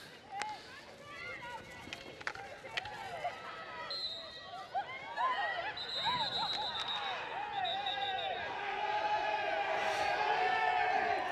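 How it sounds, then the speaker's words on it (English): Spectators at a women's hockey league match, Loughborough Students against Buckingham, shout and cheer, building from scattered calls into louder sustained crowd noise over about eleven seconds, mixed with commentary and running on the pitch. "The Loughborough crowd getting vocal there."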